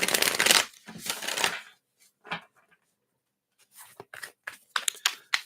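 Spirit animal oracle cards are shuffled up close in several quick riffling bursts, then soft scattered shuffles and taps after a pause, with no voices.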